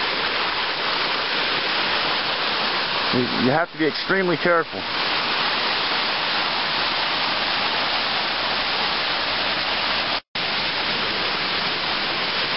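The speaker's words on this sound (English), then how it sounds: "this little creek can turn into a raging river" Broadband rushing of a small rocky creek flowing on a rainy day runs steadily and loud across the whole stretch, with a person speaking briefly over it near the start.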